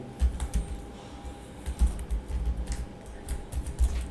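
Computer keyboard typing, close and clear, with a string of irregular key taps and short bursts of clicks and no talking.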